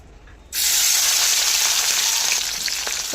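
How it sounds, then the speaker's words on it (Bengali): Prawns dropped into a hot pan to fry lightly, a sudden loud sizzle bursting in after a brief quiet moment and then holding as a steady, bright hiss. "চিংড়িগুলোকে এবার চিংড়িগুলোকে হালকা করে ফ্রাই করে নেব"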